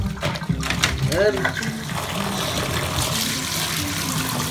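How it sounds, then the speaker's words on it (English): Tap water runs into a bathtub with a steady splashing, gushing flow, and someone talks over it. "Turn on the water."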